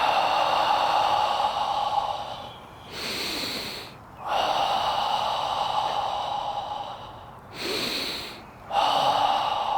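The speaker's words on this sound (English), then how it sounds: "inhale through the nose, exhale through the mouth" Slow, deliberate breaths during a qigong breathing exercise, a long airy inhale through the nose and a long exhale through the mouth, close and loud, repeating in steady cycles with short pauses between.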